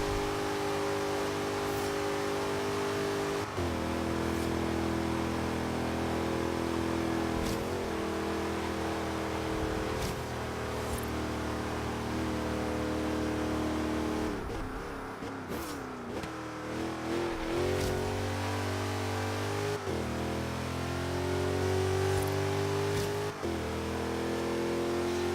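Racing car engine in the Forza video game, a loud, close, continuous drone that climbs in pitch through the gears with sharp shifts and drops, including a dip and re-rev partway through.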